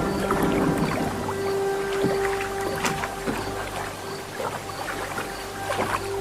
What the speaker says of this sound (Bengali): আব্দুল তাড়াতাড়ি নৌকা বাইতে লাগলো।